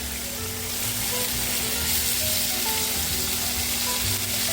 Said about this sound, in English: Sear it up on the other side